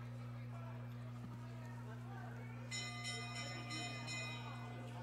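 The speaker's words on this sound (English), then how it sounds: "There's the bell for 1 to go." A bell rings out the final lap at a short track speed skating race at the age group nationals, a repeated ringing that sits over a steady hum and crowd noise in an indoor rink.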